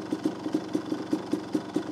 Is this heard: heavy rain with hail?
no